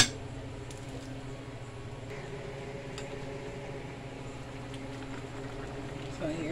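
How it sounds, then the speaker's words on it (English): Stir-fried cabbage simmers in a covered pot, giving a steady low bubbling and hiss with faint patter, even and close throughout. "Cabbage is cooking."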